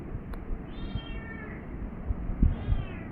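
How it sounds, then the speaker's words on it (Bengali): A cat meows several times indoors, short moderately close calls over a low background hum. "বিলাই ডাকতেছে।"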